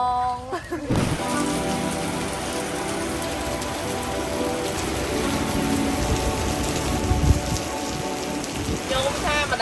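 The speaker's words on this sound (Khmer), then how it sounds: "ដល់ពេលថ្ងៃនេះវាភ្លៀង" Steady rain falls on Koh Rong island in Cambodia, a dense, even hiss of drops on surfaces that lasts throughout, with a brief voice near the start.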